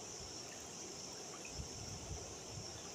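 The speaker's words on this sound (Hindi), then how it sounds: "उधर से आ रहा है पानी।" Water of a small stream flows through a forest area, a steady soft trickle and rush with low gurgles, continuous and fairly close, no voices.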